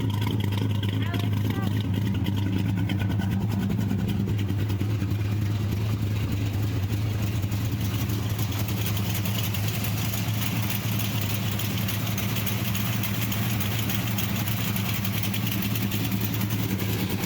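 A Plymouth Barracuda with a six-pack carburetor setup idles steadily with a deep, continuous low rumble through its exhaust, sustained loud and close throughout, while people talk over it.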